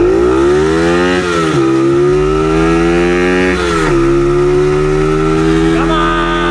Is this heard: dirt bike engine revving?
yes